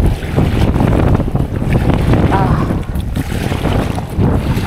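Strong wind buffets the microphone in a constant roar while waves wash and churn nearby, loud and unbroken throughout.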